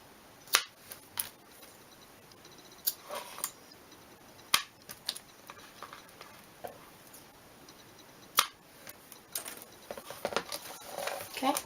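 Scissors trimming off excess faux leather while making a Faux Dori planner from a Franklin Covey planner, with sharp snips scattered irregularly and a louder flurry of cuts toward the end.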